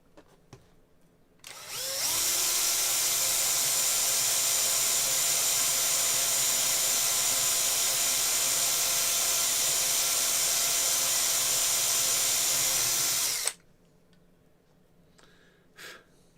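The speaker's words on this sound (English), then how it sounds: "There's like a cup already made in there that sits the drill bit in there nicely." A power drill bores with a drill bit into a 1960 Bush TR 82C radio, a loud, steady whine running about twelve seconds before stopping abruptly, with quiet handling sounds before and after.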